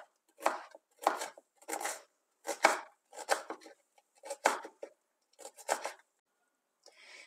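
Onion chopped finely with a knife on a board, a steady run of about nine crisp, evenly spaced cuts, close and clear with no talking.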